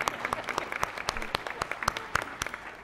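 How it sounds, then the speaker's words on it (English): A board meeting audience applauds together: dense, steady clapping from a room full of people with sharp individual claps standing out, sustained throughout. "let us give you a huge round of applause and thanks"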